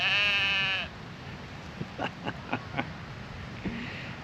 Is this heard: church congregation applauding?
no